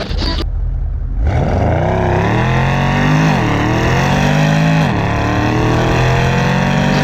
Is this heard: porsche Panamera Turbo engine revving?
yes